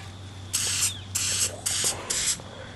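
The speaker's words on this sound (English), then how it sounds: "If I put this in and start spraying everywhere." A can of Montana Hardcore spray paint fires four short, loud hissing bursts in an even rhythm, each under a second long, with brief quiet gaps and a low steady hum underneath.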